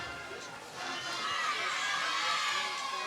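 Home crowd at a North Penn high school homecoming football game against Pennridge, roaring with a steady, broad wash of cheering and shouting that swells and holds throughout, heard from within the stands.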